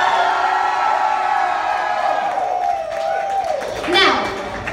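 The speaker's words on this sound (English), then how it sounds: "So we want you to make some loud noise for yourselves." A concert hall crowd at a New Years Day rock show in Louisville's Diamond Pub cheers, whoops and shouts loudly, the roar swelling to a peak near the end.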